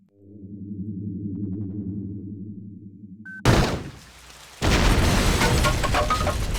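A bomb detonates in the Blade Runner video game: a sustained low drone cuts off into a sudden loud blast, the rumble fades, then a second heavy roaring burst of debris and noise carries through to the end.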